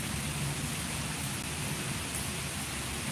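Steady rain falls outdoors, a dense, even hiss of drops without a break, close and constant all the way through, with no voices.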